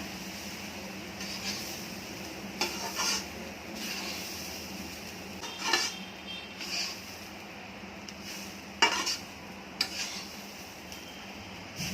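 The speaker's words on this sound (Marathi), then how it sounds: "आता हे व्यवस्थित हलवून घ्यायचं खोबरं पण आपलं चांगलं भाजलं गेलं पाहिजे" Grated coconut being roasted and stirred in a pan for modak filling, with occasional sharp clinks of a spatula against the metal over a steady low background, sparse and moderately quiet.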